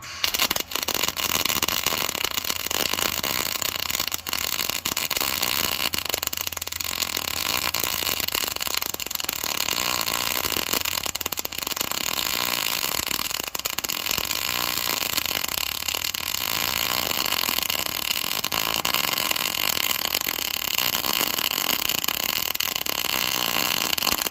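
Arc welding along a metal seam gives a steady, dense crackling buzz that holds almost unbroken for the whole stretch, fairly loud and close.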